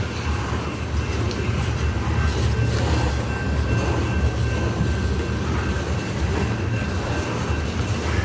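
A CSX coal train rolls steadily past at close range in Mount Airy, a continuous loud rumble of wheels and cars with a faint high tone running through it.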